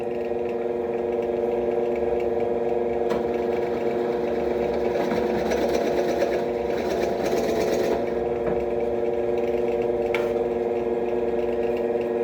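A sharpened drill bit bores almost through a piece of wood with a steady motor whine, and a few sharp ticks come as the cut nears the far side. The sound is moderately close and carries on alone without talk.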